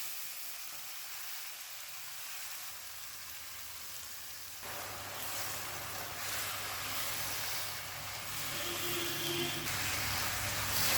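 Chopped snake gourd, salted and turmeric-coated, goes with its own released water into hot oil in a home kitchen; a loud, steady frying hiss bursts in partway through and keeps crackling to the end, with no talking.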